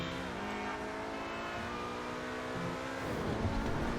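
An Obey 10F, the Audi R8 of GTA Online, accelerates hard in the game, its engine climbing steadily in pitch through a long continuous pull, heard alone and at moderate level.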